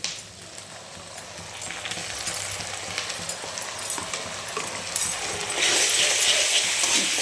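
Spice paste of ginger and garlic being stirred in a frying pan for a paneer sweet corn kurma, a continuous sizzle with scraping stir strokes that grows louder near the end.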